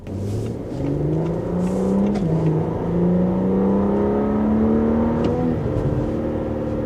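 A 2025 Audi SQ5 Premium Plus engine revs up, its tone climbing and holding as the car accelerates, loud and close with a smooth sustained drone and no talking over it.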